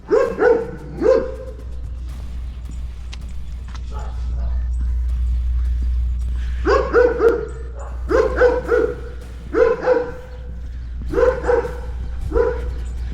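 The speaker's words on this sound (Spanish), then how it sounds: "porque este perro está muy ladrón" A dog barks in several loud clustered bursts, pausing briefly before a longer run of repeated barks, heard alone without talk over a steady low hum.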